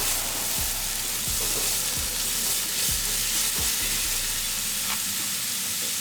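Onions and brown sugar sizzle steadily in a pan, close up, while a spoon scrapes and stirs in regular strokes, with no talking.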